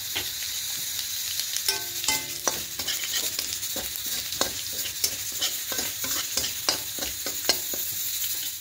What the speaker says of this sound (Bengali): এবার এই তেলের মধ্যে ফোড়নে দেব শুকনো লঙ্কা আর সর্ষে, কালো সর্ষে দেব।